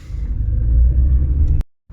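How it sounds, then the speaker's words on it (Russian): Strong storm wind at the Black Sea shore at Vityazevo buffets the microphone in a deep, loud rumble that swells and then cuts off abruptly near the end. "Но даже здесь чувствуется сильный ветер."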